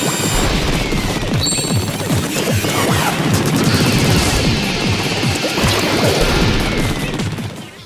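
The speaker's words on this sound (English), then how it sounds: "He produces electronic music while he attacks you with his giant fists and rockets." In a Nintendo boss fight, DJ Octavio attacks with giant fists and rockets. Dense, continuous crashes, booms and rapid impacts pile up into a loud chaotic barrage over game music, with no one speaking.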